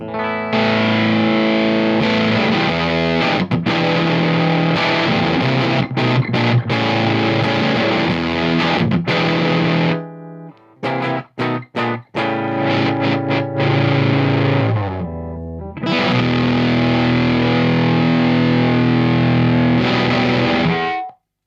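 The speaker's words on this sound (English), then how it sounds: "it has that kind of dark, smoky sound that we want from a Germanium fuzz" A thick, dark, smoky distorted electric guitar through a germanium fuzz pedal plays loud chords and riffs, briefly dropping to choppy stabs midway before ringing out full again.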